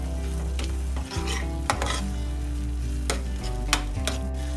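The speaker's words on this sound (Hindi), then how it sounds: "इसको अच्छे से मिक्स कर देंगे।" Shahi paneer gravy stirred and frying in a pan: a steady close sizzle with repeated scraping strokes of a spoon against the pan, several sharp knocks, and no talking.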